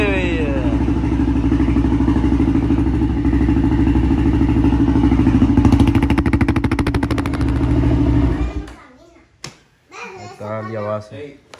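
ATV engine started up and left running, a loud rough idle with a rapid pulsing putter that holds for several seconds, then cuts off before someone speaks.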